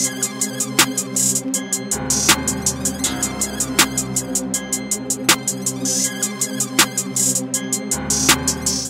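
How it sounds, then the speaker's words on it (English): A steady Chicago drill drum loop of quick, crisp two-step hi-hat ticks with a snappy snare hitting at regular intervals over a low sustained tone, made in FL Studio. "I started out with a basic 2-step hi-hat and a snare"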